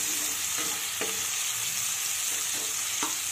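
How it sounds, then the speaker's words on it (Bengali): Tomatoes fry in a pan with a loud, constant sizzle, while a utensil stirs and scrapes at intervals, giving a few distinct knocks against the pan. "এক মিনিট মতো নেড়ে চেড়ে টমেটোটাকে ভেজে নিতে হবে।"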